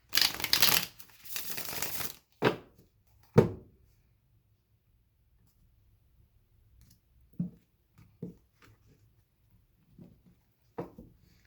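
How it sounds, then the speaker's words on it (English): Tarot cards are riffled in two quick bursts, followed by a few sharp taps and soft clicks as the deck is squared, then near silence with sparse small handling noises. "One more shuffle and then I'll cut."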